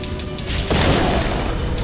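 A loud explosion from the action video game Ninja Blade bursts in partway through, a broad booming blast that rolls on as sustained rumble beneath game audio, with no talk.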